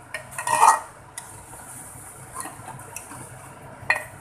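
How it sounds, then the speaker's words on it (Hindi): Chopped tomatoes stirred in a pot of mutton rogan josh cooking in ghee, with a few soft scraping clinks of a spoon against the pot and quiet sizzling between them. "अब हम इसे तब तक हिलाते रहेंगे जब तक कि ये टमाटर अच्छे से मैश ना हो जाए।"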